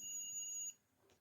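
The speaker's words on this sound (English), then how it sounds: "You can hear the buzzer sound. So the buzzer is on and red LED is glowing." Electronic buzzer of an ultrasonic water tank level monitor signalling a full tank, a steady high-pitched tone sounding for under a second and then cutting off, followed by a faint click.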